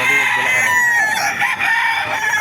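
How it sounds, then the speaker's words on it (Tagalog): Roosters crow loudly and almost without a break at a chicken market in Baliuag, Bulacan, with overlapping calls from several birds filling the whole stretch. "Papakita natin mga manok dito sa Baliwag, Bulacan."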